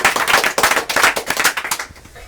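Hands clapping in a TV quiz-show studio as the audience welcomes a contestant, loud dense applause with sharp claps that tapers off near the end, no talk.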